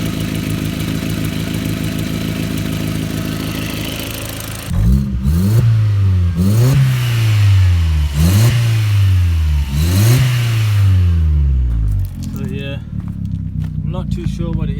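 An Audi S3 with a suspected wastegate problem idles, then revs sharply four times in a rising and falling rhythm before dropping back, loud and close, with a voice briefly audible.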